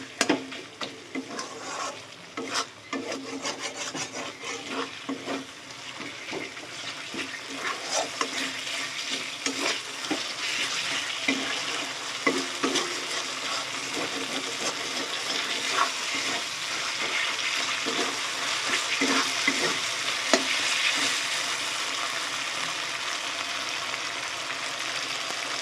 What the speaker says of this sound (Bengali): দিয়ে খুব ভালো করে কষিয়ে নেব চিকেনটা দেওয়ার পর।